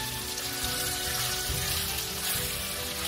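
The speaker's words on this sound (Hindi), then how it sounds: "अब इसमें हम डाल देंगे ये मटन 1 kg जो वॉश किया हुआ है, और इसको भी हम इसको अच्छे से इसके साथ फ्राई करेंगे।" Washed mutton frying with whole spices in a karahi: a steady, loud bubbling sizzle with dense crackle across the whole clip and no talking.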